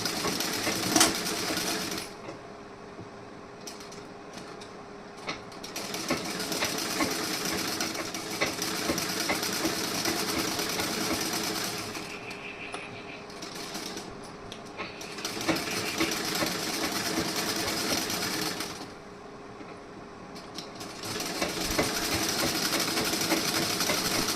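A sewing machine stitching cloth with a half-inch seam allowance hums steadily at close range, running for long stretches with a few short pauses and shifts in speed.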